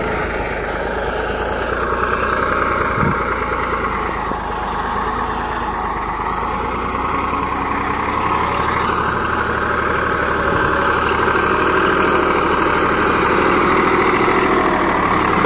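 A 35 HP Same tractor engine, a Greaves 353 fitted with a 3-bottom mouldboard plough, runs steadily at idle, a loud continuous low rumble with slight pitch swells, heard close throughout.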